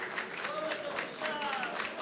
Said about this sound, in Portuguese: um aplauso necessário aqui